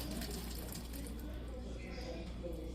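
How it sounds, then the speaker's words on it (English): Cooked pasta and its water poured from a pot into a strainer set in a kitchen sink, a steady rushing, splashing pour running throughout. "now I'm going to go and strain the pasta"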